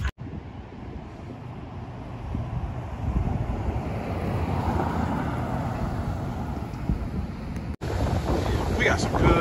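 Steady roar of two-to-three-foot ocean surf and wind buffeting the microphone outdoors at Holden Beach, continuous and fairly loud, with no voices.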